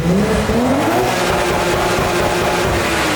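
A Toyota KE70 engine screams at high revs, bouncing against the rev limiter with a loud, steady, close-up roar that wavers slightly in pitch throughout.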